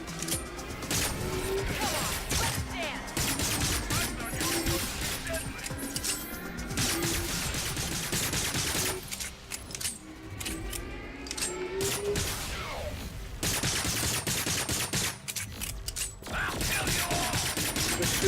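Sustained gunfire in the video game Agents of Mayhem: dense, nearly continuous shooting with crashing impacts and laser-like bursts, broken by brief lulls, while someone talks over the action.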